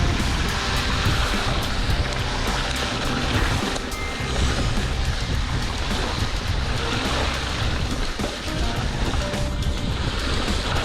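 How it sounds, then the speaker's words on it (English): Mountain bike tearing through massive puddles on fire roads, a constant loud wash of splashing water and rushing wind noise that lasts the whole stretch without a break. "we got absolutely soaked in some massive puddles on the fire roads"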